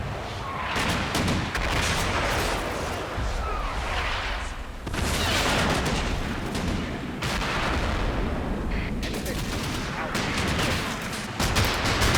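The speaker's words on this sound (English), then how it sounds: "They're taking fire from their right." Dense, continuous gunfire and artillery booms rumble through a World War II strategy video game battle, with overlapping shots and blasts filling the whole stretch at close, loud levels.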